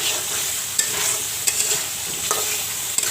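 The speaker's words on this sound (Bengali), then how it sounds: "টমেটো দিয়ে আবার একটু কষে নিচ্ছি" Tomato and spice paste for a katla fish curry with pumpkin is stir-fried in a pan, a steady close sizzle with a few sharp spoon scrapes and taps spaced through it.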